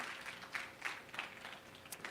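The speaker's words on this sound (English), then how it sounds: "Big round of applause as we close out the 15." Light, scattered clapping from an audience at a 50th anniversary celebration fundraiser, a few distinct claps over a soft patter, fairly faint and brief.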